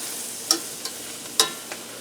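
Margarine melting in vegetable oil in a pan on low heat, a soft steady sizzle punctuated by a few faint clicks of a utensil against the pan, close, with no one speaking.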